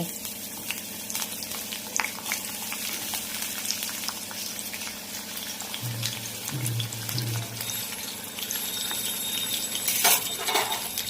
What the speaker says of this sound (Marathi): छान अशी कांद्याची फोडणी देते.